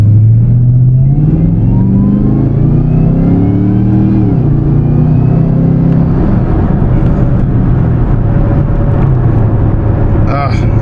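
A Camaro ZL1 with a Rotofab intake and supercharger revs loudly and up close, its engine pitch sweeping up and down through several long pulls; voices talk over the engine noise.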